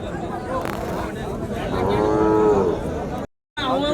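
Cattle at a cattle market, one cow lowing a long, clear moo close by over a busy crowd murmur, followed by a brief dropout before the background noise returns.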